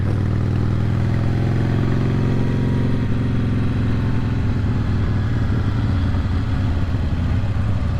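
A 2004 Harley-Davidson Softail motorcycle engine while riding, a loud, close, continuous low rumbling drone that holds steady for the whole stretch, with no talk over it.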